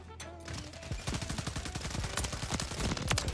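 Rapid gunfire from a KV Enforcer in Modern Warfare 3, a fast run of sharp shots and clattering bursts building over a few seconds amid other game sounds, moderately loud.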